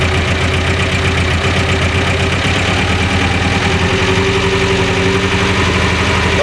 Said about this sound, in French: il y a une latence d'à peu près 1 seconde avant que le moteur réponde en tournant comme ça